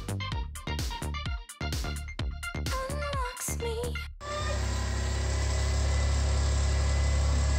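Tonal musical bursts cut off abruptly, giving way to a loud, steady, rough-sounding idle of a swapped Subaru EG33 engine on Megasquirt3 first start, with a thick low-frequency rumble that continues alone.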